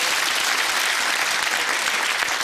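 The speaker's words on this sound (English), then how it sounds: "A little round of applause, just a little of sympathy." Studio audience on a British television game show gives a round of applause, a dense, loud wash of clapping that holds steady with no voices.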